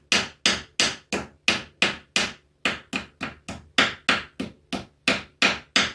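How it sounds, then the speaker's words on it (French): Wall plugs being tapped into a wall with a screwdriver: about seventeen sharp, evenly spaced knocks over six seconds, close and fairly loud, with no talking. "on enfonce avec soit le dos de la visseuse, soit un tournevis"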